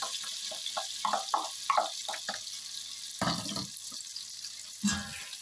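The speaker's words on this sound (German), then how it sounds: "Geben wir hier die Zwiebeln rein." Onions tipped into a pot of melted butter with other soup vegetables give a soft, steady sizzle, with scattered clatters and scrapes as they are dropped in and stirred, fairly close.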